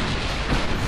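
A dense, roaring burst of noise like heavy gunfire or cannon blasts in a naval video game, loud and sustained across the whole moment.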